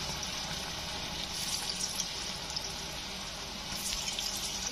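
Banana kofta frying in a kadai makes a dense, continuous hiss and crackle of hot oil, close and steady throughout.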